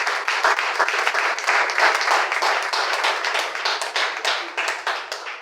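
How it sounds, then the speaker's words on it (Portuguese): A loud round of applause breaks out among a missionary conference congregation, many hands clapping briskly and steadily from start to finish with crisp individual claps standing out, fading slightly at the very end. "salva de palmas bem forte."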